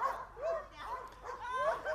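Young puppies yipping and whimpering in short, high-pitched bursts, fairly close, at a dog training center, with faint background voices.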